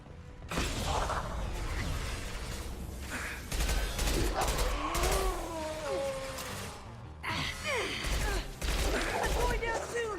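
Heavy weapon fire during a Mass Effect 2 battle against the Collectors, with repeated loud blasts, whooshing projectiles and clattering mechanisms over a dense combat din, with voices calling out between bursts.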